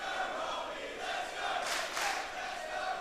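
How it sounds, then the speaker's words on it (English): A home crowd at a Sydney professional wrestling event roars for wrestler Robbie Eagles, a sustained wash of cheering and yelling with two louder swells, heard alone without commentary. "It's a home crowd for Robbie Eagles."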